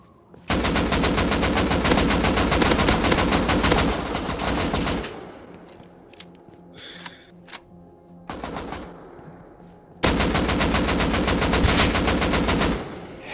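Gunfire in the survival game Rust: long, loud bursts of rapid automatic fire, with a shorter burst and a quieter stretch of scattered shots in between, then another sustained volley.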